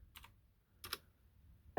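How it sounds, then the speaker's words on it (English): Typing on a computer keyboard: two brief clusters of soft keypresses, quiet and nearby, in otherwise hushed surroundings, with no voices. "So now if we type play,"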